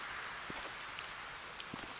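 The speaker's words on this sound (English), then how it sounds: "Now what I want to do is it's raining" Rain falls steadily in the Rising World video game, a faint, even hiss with a few soft drop taps and no voices.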